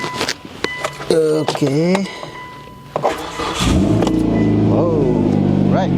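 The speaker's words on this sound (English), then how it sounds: "Now let's start the car" A 2005 Hyundai Tucson cranks with a couple of clicks and whirs, then catches and settles into a steady idle with a low rumble, while a person speaks briefly near the start.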